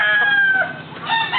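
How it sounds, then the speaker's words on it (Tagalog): A winning fighting cock crows loudly and close, one sustained crow with clucking fowl sounds around it and no talk. "Ito ang nanalo. Ito kuno yung nanalo."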